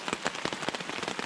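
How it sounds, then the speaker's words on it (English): Heavy rain drums on a tent in a continuous, dense patter of close drops, a steady downpour with no voices. "downpours came again"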